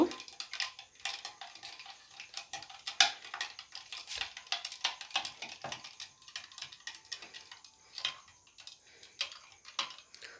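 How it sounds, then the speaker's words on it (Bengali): A spoon stirring water for aam panna makes quick, light clinks and taps against the container, an irregular ticking rhythm that stays close and fairly quiet, with no speech. "জলটা দিয়ে একটু চামচ দিয়ে ভালো করে নেড়ে নেব"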